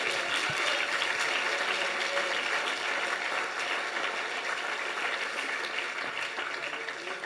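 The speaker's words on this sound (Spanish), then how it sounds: "Un aplauso al Señor" A church congregation gives applause to the Lord, a steady wash of many hands clapping that holds throughout and fades slightly at the end, with no speech over it.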